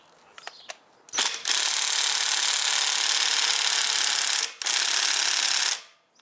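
A lightweight cordless automotive impact gun revs after a few faint clicks, a loud close whirring burst running for several seconds, briefly cutting out, then resuming before stopping abruptly.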